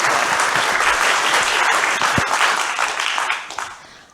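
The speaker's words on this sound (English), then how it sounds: "can we give a round of applause?" Sustained applause from a conference audience after a speaker is welcomed to the stage, loud and dense for several seconds before tapering off near the end.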